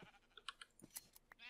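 In a video game with sheep, a few short, quiet bleats come among faint clicking sounds, with no voices over them.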